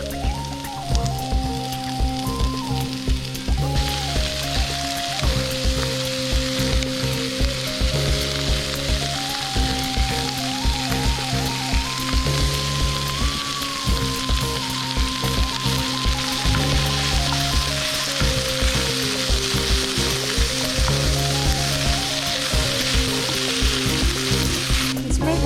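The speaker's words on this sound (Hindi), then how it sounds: "अभी बॉयल श्रेडेड फिश को डाल के अच्छे से फ्राई कर लेंगे।" Boiled shredded fish frying with grated ginger and garlic in hot oil, giving a loud, steady sizzle that runs unbroken throughout with no talking.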